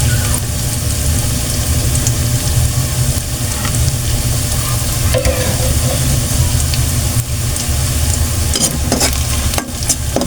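Cabbage and sardines sautéing in a pan until golden brown, a steady loud frying sizzle with stirring scrapes throughout, no talk.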